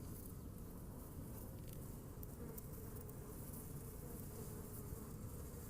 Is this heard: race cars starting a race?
no